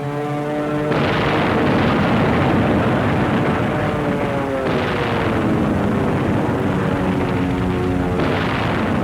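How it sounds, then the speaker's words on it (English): Japanese Zero fighter planes raiding a World War II jungle airfield, a continuous loud roar of aircraft engines with heavy rumbling booms and surging bursts, no voices. "Broadway was attacked by Zeros in a series of raids"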